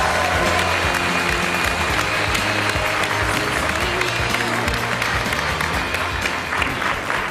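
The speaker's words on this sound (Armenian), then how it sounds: "եկեք բարձր ծափ առնենք" Audience applause at an X-Factor Armenia audition, a dense, steady wall of clapping from a crowd that stays loud and continuous throughout, with faint voices mixed in beneath it.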